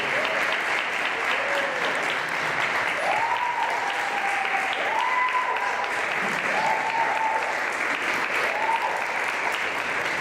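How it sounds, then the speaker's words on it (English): An audience at a LULAC district convention in Phoenix applauds the mayor with sustained, dense clapping, while faint voices and cheers rise over the steady ovation. "let's give a big round of applause to our Mayor of Phoenix, Gallego."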